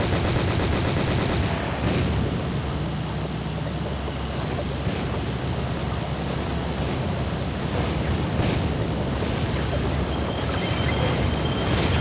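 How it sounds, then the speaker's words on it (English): Sustained tank machine-gun fire in the Panzer Elite combat game, a dense continuous rattle layered with booming cannon and explosion rumble, loud and unbroken throughout. "Klaus, use the machine gun!"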